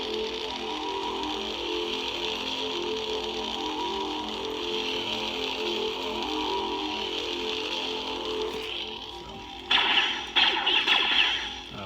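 A Desolation 2 lightsaber sound font on a GCS Ascend CF8 saber gives a steady electric hum throughout, then sharper crackling swing bursts near the end, loud and alone with no talking.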